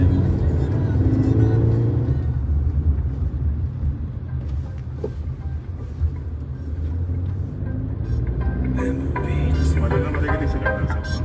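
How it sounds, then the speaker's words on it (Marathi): A 4-cylinder car engine hums and rumbles steadily from inside the cabin on a test drive, rising slightly at moments, with people talking over it. "इंजिनचा आवाज येतो तुम्हाला."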